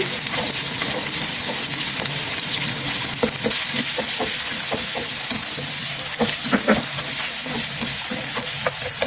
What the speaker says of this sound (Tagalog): Siyempre, sunod ko na yung spam. Hintay natin mag-golden brown.